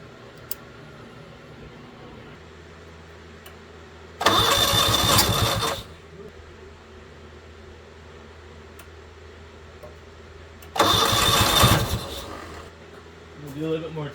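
A 1970 Honda N600 sedan engine is cranked in two separate bursts of about a second and a half each, a rough mechanical churning that fails to catch, with quiet background hum between attempts.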